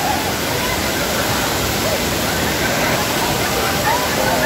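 Tay-Tay Falls in Laguna roars as a powerful waterfall, a loud, steady rush of white water filling the whole clip without a break.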